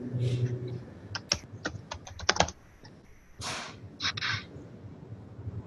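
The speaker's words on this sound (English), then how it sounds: "Somebody's typing. Yeah, somebody's a quick typer too." Quick typing on a computer keyboard during an online club meeting, bursts of sharp clicks and clatter at a close distance, with a brief voice early on and quieter gaps between runs.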